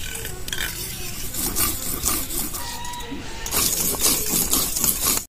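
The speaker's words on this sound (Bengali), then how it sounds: "এখন সর্ষেটা বেটে নিচ্ছি।" Mustard seeds are ground by hand in a home kitchen for a hilsa fish curry with yogurt, giving a continuous rough, gritty scraping with rhythmic strokes that grows louder toward the end.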